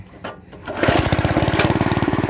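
A mini tractor engine runs loudly and steadily after a brief start-up, with a fast, even mechanical chugging close by.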